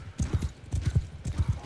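Horse hooves clip-clop in Mount & Blade II: Bannerlord as a pack animal is ridden, a steady close rhythm of paired hoof strikes repeating through the whole stretch, with no talking.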